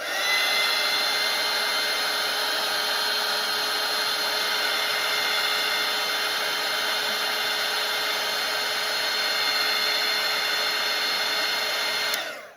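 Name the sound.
hair dryer drying watercolour paint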